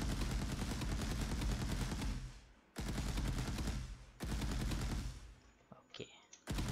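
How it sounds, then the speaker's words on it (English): Rapid bursts of automatic gunfire from a third-person shooter game built in Unreal Engine, aimed at a wall: three loud sustained sprays separated by abrupt stops, the last trailing off into scattered shots. "Let's go shoot at a wall so we can clearly see that."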